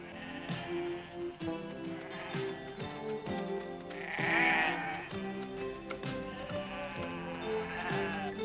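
Sheep bleat repeatedly in a chorus of overlapping, wavering calls at steady intervals, loud and close, with a brighter, more insistent cry in the middle.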